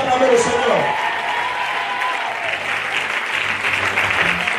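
A church congregation applauds, a sustained dense wave of clapping filling the room continuously, with a voice over a loudspeaker briefly audible at the start.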